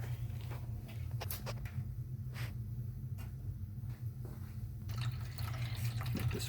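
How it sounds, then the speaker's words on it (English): Beer runs from a carboy through a siphon tube and a filter into a bottling bucket, giving a quiet, continuous liquid trickle with a low rumble and a few soft knocks and splashes near the end. "siphoned the beer from the carboy into the bottling bucket through the filter"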